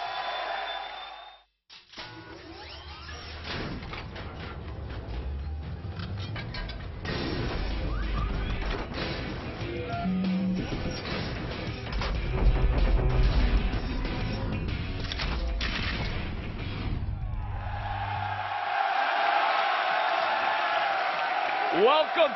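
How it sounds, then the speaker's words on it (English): Crowd at an MLG Pro Circuit Championship Sunday in Columbus, Ohio, chanting for the team Instinct during a Halo finals match, a loud, dense roar of many voices rising and swelling, with a caster talking over it. "the crowd starts the instinct chant"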